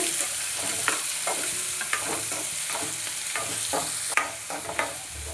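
Chopped onions frying in oil with cinnamon, cloves, cardamom, fennel and cumin, a constant hiss with repeated stirring scrapes, close and fairly loud.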